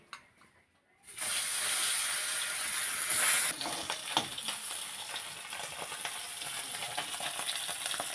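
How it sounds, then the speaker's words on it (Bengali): Pieces of fish slide into hot oil in a pan, bursting into a loud steady sizzle and hiss after a brief quiet start, crackling on close by without talk. "এবারে যে বাকি মাছগুলো ছিল সেগুলো ভেজে নেবো"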